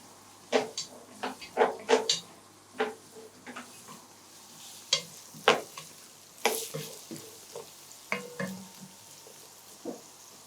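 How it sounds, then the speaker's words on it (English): A spatula scrapes and stirs fried rice in a pan with a soft steady sizzle underneath, the strokes coming as irregular sharp knocks and scrapes close by, with no voices. "So we're going to stir it and allow it to cook for some time."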